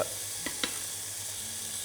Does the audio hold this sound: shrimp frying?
yes